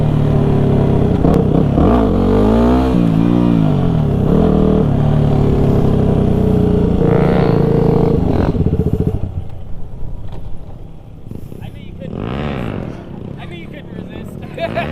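A supermoto motorcycle turns circles in a parking lot, its loud engine rising and falling close by with revving, then settling to a quieter idle. People talk over it.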